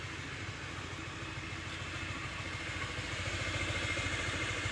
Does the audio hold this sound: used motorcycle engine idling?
yes